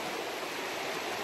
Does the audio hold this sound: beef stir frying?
no